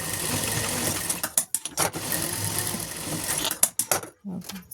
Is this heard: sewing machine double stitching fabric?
yes